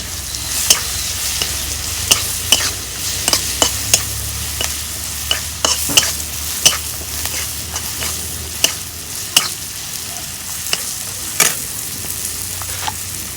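Spices frying in oil in a pan for a Bengali rupchanda fish dish with chilli powder and green chillies, a loud steady sizzle broken by repeated sharp metal scrapes and taps of a spatula stirring, close by and alone.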